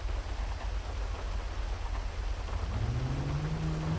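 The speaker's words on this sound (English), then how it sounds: "Why is it so fucking rainy" Steady, even rain falls in a video game, a dense hiss of drops on surfaces with a low rumble underneath and a rising low tone near the end.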